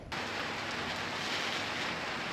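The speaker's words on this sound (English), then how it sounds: "Because it's raining." Steady rain falls at a green campsite, a dense even hiss that starts abruptly and holds at a constant moderate level throughout, with no voices.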